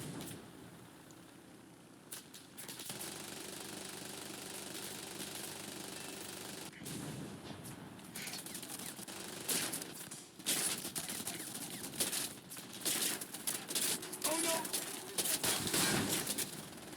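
Biplane gunners firing in a combat flight video game, with sustained rattling bursts of machine-gun fire over a steady engine drone that intensify toward the end, no talking.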